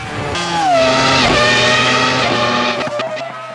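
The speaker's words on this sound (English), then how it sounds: "how freaking amazing does this thing sound?" A Ferrari F2004 engine in the racing game Assetto Corsa screams loudly and steadily at high revs, its pitch sweeping up and down through gear changes with a sharp, buzzy tone.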